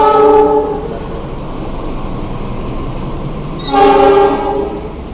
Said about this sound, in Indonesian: Dan itu dia kereta api Gunung Jati